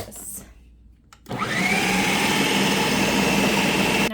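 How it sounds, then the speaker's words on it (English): After a brief quiet pause, a blender whirs up to a loud, steady high-pitched roar as it mixes lemon blueberry poppy seed breakfast bake batter with vital wheat gluten, holding the drone to the end. "And then we're going to give it one more blend."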